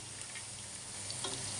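Food stirred in hot oil in a home kitchen pan: a steady, dense sizzle with faint scraping of the spoon, continuous and close.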